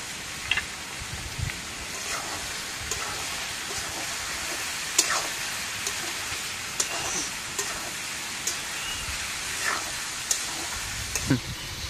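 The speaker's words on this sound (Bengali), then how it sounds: "মাংসটা আমার একটু ভাজা ভাজা হয়ে গেছে।" Duck meat sizzling and frying in a pan as it is stirred with salt and turmeric, a steady crackling hiss broken by intermittent scraping stir sounds, with faint talk in the background.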